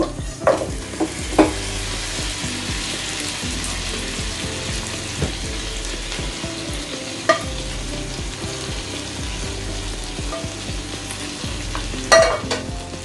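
Chicken pieces sizzle and fry in a pan for capsicum chicken with black pepper sauce, with a steady crackle under repeated scraping stirs and a few sharp clinks of the utensil against the pan.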